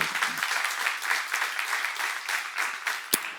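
A church congregation breaks into steady applause during a sermon seminar, a dense, even patter of many hands clapping at once, moderately loud and sustained throughout with one sharp isolated crack near the end.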